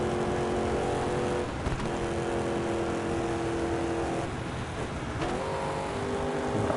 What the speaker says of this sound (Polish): Piłujemy silnik